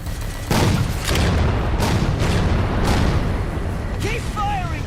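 Heavy, booming railgun blasts firing at Phantom dropships in Halo 4, several deep thuds spaced about a second apart amid ongoing battle noise and chatter, with a voice speaking near the end.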